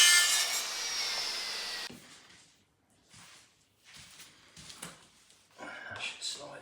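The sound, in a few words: mitre saw cutting a vinyl click laminate flooring piece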